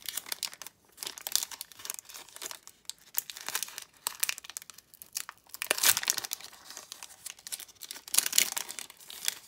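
The foil wrapper of a Pokémon Celebrations booster pack crinkles and tears open in bursts of close, crisp rustling, with short pauses between handlings.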